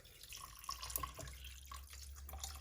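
Water poured into a pot of chicken pieces for a Middle Eastern dish, a soft, fairly faint continuous trickle and splash with a few drip-like accents, heard on its own with no talking.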